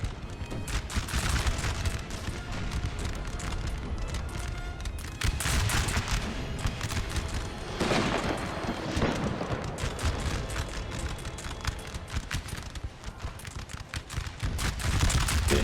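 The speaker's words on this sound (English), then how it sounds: "Legia troops being shredded here by the artillery." Artillery and musket fire raining on troops in a Napoleonic-era Total War battle, a continuous loud rumble of booms, volleys and crackling shots layered together, with no talking.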